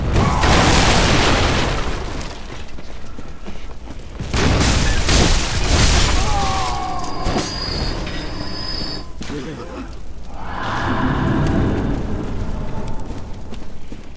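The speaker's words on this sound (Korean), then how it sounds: "여기서 어디서 뭐 대포가 날라오던." Cannon fire in Bloodborne: heavy booming blasts hit loudly at the start and again midway, followed by rumbling, crackling debris and lingering noise.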